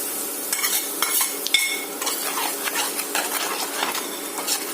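Gram flour with turmeric, coriander, chilli and cumin stirred and fried in a pan for Bengali papad curry, a close rhythmic scraping of spoon on metal over a low sizzle, no talking.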